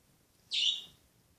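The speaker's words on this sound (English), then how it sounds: "Sorry for the bird chirping." A single short bird chirp rings out clearly and alone against a quiet indoor background, lasting about half a second.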